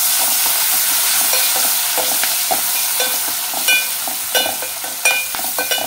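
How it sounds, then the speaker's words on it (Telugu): Prawns fry hard on high heat with curry leaves in a pan, a loud steady sizzle with frequent scraping stirs and small spatters, no voices over it. "కొంచెం వేగనిద్దామండి మనం రొయ్యల్ని."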